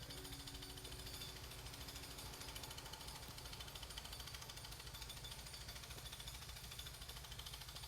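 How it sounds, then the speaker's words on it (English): A jackhammer pounding outside in the distance, a steady rapid rattle that runs continuously and faintly through the whole stretch with no talking. "Can you guys hear that jackhammer?"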